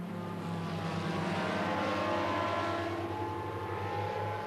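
An Optica propeller aircraft flies overhead with a steady droning engine hum and rumbling propeller buzz, loud and continuous throughout.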